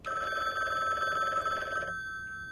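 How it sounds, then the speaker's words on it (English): A telephone rings in The Book Walker: Thief of Tales video game, a steady electronic trill with bright tonal bands. It rings continuously for about two seconds, then cuts off, leaving a faint hum. "I don't want to have to listen to the phone ringing the whole time."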